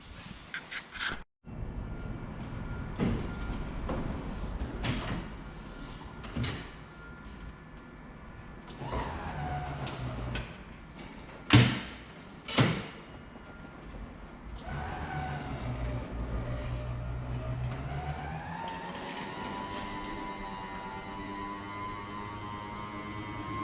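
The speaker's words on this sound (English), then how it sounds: "So let me set the camera up somewhere and I'll turn the top down." Power convertible top of a 1972 Chevelle lowering, with a steady electric motor hum over about twenty seconds, a few sharp clunks and latch knocks along the way, and a rising whine near the end.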